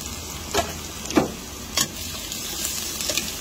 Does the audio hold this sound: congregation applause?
no